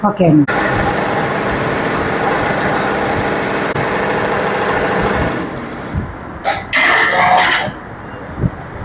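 A computer embroidery machine stitching a repeated flower motif makes a steady, loud mechanical whir with rapid needle chatter that runs for several seconds, then stops and restarts in short bursts.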